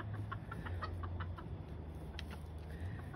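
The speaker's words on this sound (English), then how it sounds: "He's got the cutest little crow." A tiny young rooster gives a small, thin crow amid soft clucking from a backyard flock, close by over a steady low farmyard hum, with no voices.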